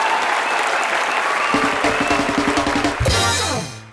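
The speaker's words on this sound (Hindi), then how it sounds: "राखी सावंत के लिए जोरदार तालियां।" A comedy show's studio audience bursts into loud, dense applause, which carries on steadily as a musical sting with bright tones enters partway through, then fades at the end.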